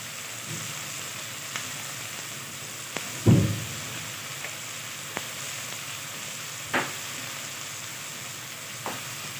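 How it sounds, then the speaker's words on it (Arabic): Fresh ginger and garlic sizzle softly in a pan under a steady low hiss, with a few isolated clinks and one louder scrape of a spoon as they are stirred, close but quiet, with no voices. "ممكن تحطي جنزبيل فريش وتقلبيه معاه تسويه معاه"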